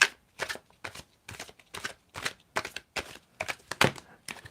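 A deck of playing cards being shuffled by hand in a series of quick riffles, each a crisp papery burst with short pauses between, close and fairly loud with no talking.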